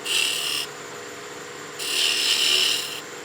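A 1/2 inch skew chisel slices beside a bead on spinning wood on a lathe, giving two hissing cuts of about a second each separated by a quieter pause, close and fairly loud.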